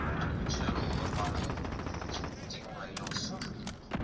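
Rapid automatic rifle fire from an M4A1 in Modern Warfare, dense and continuous with overlapping shots and game effects, played under a player's voice.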